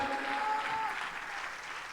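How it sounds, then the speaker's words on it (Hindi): A church congregation claps in a short, even burst of applause, moderately loud throughout with no talking over it. "एक ज़ोरदार ताली हो जाए।"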